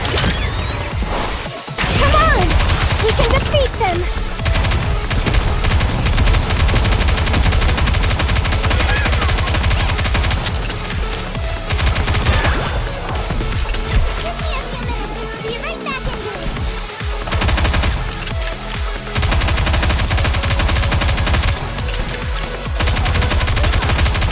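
Dense, sustained gunfire from the mobile shooter game Goddess of Victory: Nikke, with loud continuous automatic bursts and impacts running the whole time, mixed with game music and effects.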